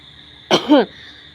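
A single sharp cough, close and clear, against a quiet background with a faint steady hum.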